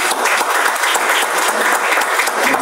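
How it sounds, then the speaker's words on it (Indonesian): Loud, enthusiastic applause from a church congregation during a sermon, a thick, continuous roar of many hands clapping at close range with slight surges in intensity. "Tepuk tangan yang paling berani."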